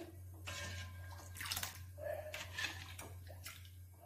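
Snails being rinsed in water in a Bengali village kitchen to wash off their sliminess, giving intermittent splashes and wet swishes over a steady low hum, with no talk.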